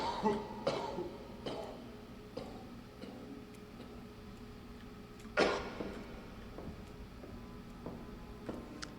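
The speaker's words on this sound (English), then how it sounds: "Nasty cough you've got." A lighthouse keeper coughs a few times, quietly, in sharp isolated bursts with one louder cough midway, over a soft steady ticking in a hushed room.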